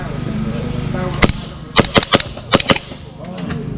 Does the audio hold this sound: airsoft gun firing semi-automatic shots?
yes